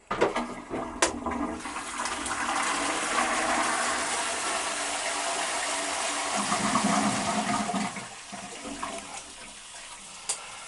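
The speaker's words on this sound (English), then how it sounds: "The high-level metal toilet." An old high-level metal cistern toilet flushes with a loud rushing gush of water that gradually settles into trickling and refilling.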